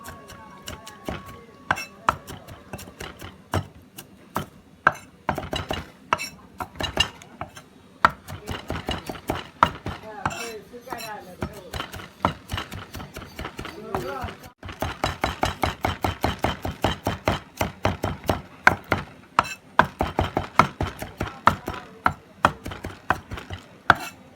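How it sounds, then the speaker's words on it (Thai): Knife chopping garlic and chili peppers on a board for a Thai hot basil stir-fry, a fast, close, steady run of sharp chops that continues throughout with brief pauses and no talking. "ครับทีนี้เราก็หั่นนะครับ หั่นให้เข้ากันกระเทียมกับพริกนะครับ"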